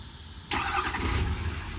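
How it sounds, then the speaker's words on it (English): A 2019 Ford F-550 truck with a service body and crane cranks and fires up after a short quiet moment, then settles into a steady, close idle. "And turn the truck back on with that button as well."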